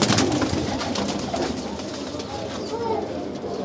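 Pigeons coo among a flock of fancy breeders' birds for sale, including Dabwalay-type pigeons with yellow eyelids, giving a dense, continuous murmur of soft calls and rustling nearby.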